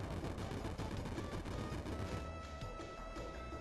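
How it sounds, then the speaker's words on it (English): Sustained heavy automatic gunfire from a pair of huge Gatling guns, a dense, loud, continuous roar of rapid shots with crashing bursts throughout, no pauses, close and overwhelming. "a pair of huge Gatling guns. We dive for cover behind some covered items, just as it opens fire"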